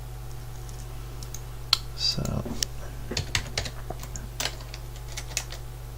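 Key presses on a computer keyboard during an animation session, a scattered run of close, crisp clicks and taps over a low steady hum, with a brief spoken word near the start.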